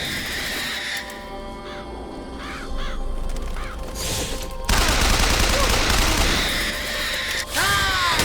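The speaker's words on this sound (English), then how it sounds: "So that's a crow, it's like another little mini boss kind of guy." Crows cawing amid gunfire in the video game Bioshock Infinite, harsh repeated caws over a dense fusillade of shots and a droning game soundtrack, loud and continuous.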